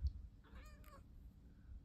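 A single short meow from a cat, close by and fairly soft, with quiet room noise around it.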